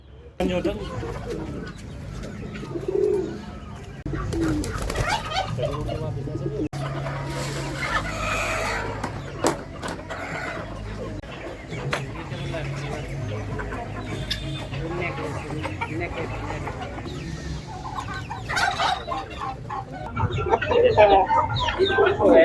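A large rooftop aviary holding native Indian and foreign birds, including fowl and pigeons: clucking, cooing and scattered calls make a dense, steady chorus nearby, with people talking over it throughout.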